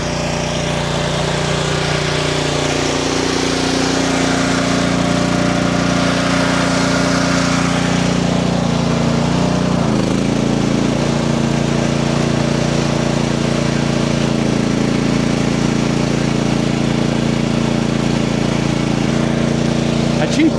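A small Chinese mini skid steer engine drones loudly and continuously at close range while plowing deep dry snow with a manual blade, its pitch dipping and rising as the load changes.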